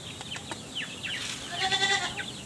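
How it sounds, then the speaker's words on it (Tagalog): A farm goat gives a short run of quick, moderately close bleats, with a brief higher call near the end. "Ito na rin yung kambing natin."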